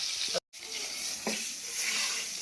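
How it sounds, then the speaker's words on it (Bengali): Fish sizzling in hot oil in a kadai, a steady crackling hiss with a brief dropout and a couple of soft clinks, no one talking. "এই সব মাছগুলো একে একে ভেজে নিলাম"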